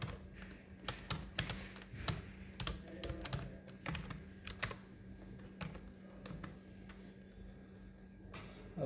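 A computer keyboard is typed on while text is entered in MS Word, with quick, irregular clusters of light plastic clicks near the microphone, heard alone over a faint steady hum.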